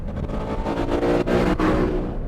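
An Aston Martin Vantage V8 drives with a steady, loud engine drone throughout, its note dipping briefly twice as if shifting or easing off the throttle, with no one talking.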